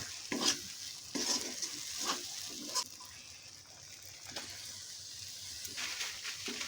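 Grated paneer stirred into a stuffing in a hot pan, soft sizzling under a series of separate scraping strokes of a spoon, fairly quiet and close.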